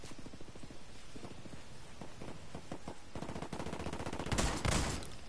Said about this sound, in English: I put 7 shots into him.